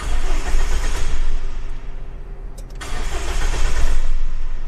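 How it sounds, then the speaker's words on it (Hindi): A car engine cranks with the starter motor but fails to start, giving a loud, steady whirring and churning for several seconds with a brief dip partway through and no catch into idle. "ये गाड़ी सेल्फ में ले रहा हूँ लेकिन गाड़ी स्टार्ट नहीं हो रही।"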